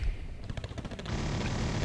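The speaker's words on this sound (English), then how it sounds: "Never mind, auto-cannon rins. Or cannon rind, I should say." Helicopter auto-cannon fire in the video game Wargame AirLand Battle: a short rapid burst of repeated shots, loud and close, fading into rumbling noise.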